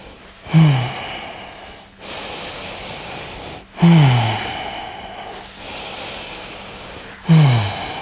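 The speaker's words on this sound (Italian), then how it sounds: "20 respirazioni, molto lente" Slow, deep breaths taken while holding a plank, three long cycles each opening with a sharp nasal inhale and trailing into a drawn-out airy exhale, close and loud.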